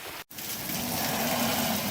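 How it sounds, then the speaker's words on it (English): Heavy rain pouring down in a dense, steady hiss that drops out for an instant near the start, then continues unbroken. "Still pouring the rain"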